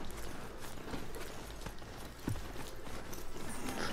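Horse hooves plod in Horizon Zero Dawn at night, a soft, steady clip-clop low in the mix with a slightly louder thud near the middle.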